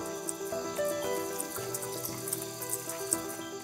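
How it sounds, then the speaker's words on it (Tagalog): Clear water pouring steadily from a mountain spring used as a village water source, a soft continuous trickle and splash heard faintly alongside sustained tonal background sounds. "Nang marating namin ni Rosalyn ang bukal na pinagkukuhaan nila ng tubig, kapansin-pansin ang linis at dami ng tubig na inilalabas nito"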